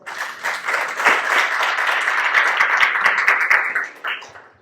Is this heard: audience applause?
yes